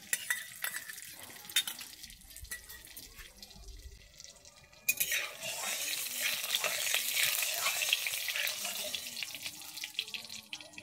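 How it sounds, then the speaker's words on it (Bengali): Semolina frying in hot ghee in a wok: after a quiet stretch of faint scraping and stirring, a sudden bright, steady sizzle begins and carries on close and continuous. "ঘিটা গরম হয়ে গেছে, এবার আমি সুজিটা ভেজে নিচ্ছি"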